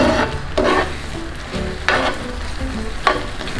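Banana pieces are stirred through bubbling caramel in a hot pan. Loud, steady sizzling and frying carries throughout, broken by a few scraping, knocking stirring strokes against the pan.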